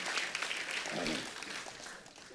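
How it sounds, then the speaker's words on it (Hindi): Loud applause from a studio audience at an Indian comedy talk show, a dense, steady wash of clapping lasting a couple of seconds with a faint voice underneath. "एक बार जोरदार तालियां हो जाएं।"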